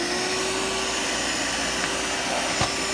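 A vacuum drawing dust out during chimney siding replacement runs as a loud, steady whine with a constant motor tone, close and continuous with a brief knock near the end and no talking.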